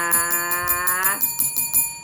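A notification bell sound effect rings as a rapid series of bright dings, about ten evenly spaced strikes in two seconds, with a sustained ringing tone underneath that drops away halfway through.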